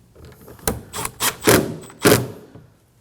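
Plastic rear door panel trim on a 2017-2024 Nissan Armada having screws driven in: a handful of short clicking, whirring bursts in uneven sequence, close and fairly loud with no talk.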